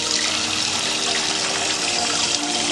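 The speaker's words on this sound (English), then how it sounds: "And run it under tap water." Steady, loud rush of running tap water, a continuous broadband hiss with no pauses and no voices.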